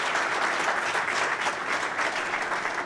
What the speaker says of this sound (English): How about a round of applause for our Lieutenant Governor as well?